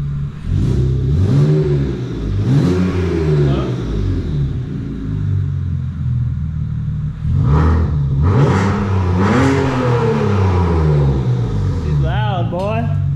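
BMW ZHP fitted with a valved Turner exhaust revving loudly in repeated bursts, rising and falling engine pitch close by, with people talking over it.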